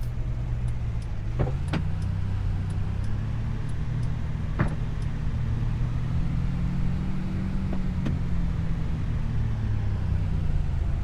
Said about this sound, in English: Man, this is a fun car.